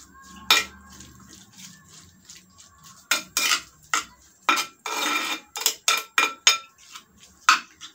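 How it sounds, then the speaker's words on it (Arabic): A metal utensil scrapes and clinks against a pot while onion is stirred together with spices for a pea and zucchini kofta tagine, in a run of close, uneven bursts of scraping with short pauses, no talking. "نخلطوا هاد العناصر هكا مع التوابل"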